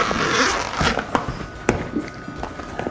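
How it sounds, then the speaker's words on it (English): A zipper on a bag being drawn open in short rasping pulls, close by, with a few soft clicks and handling noises in between. "You can move the zipper all the way around."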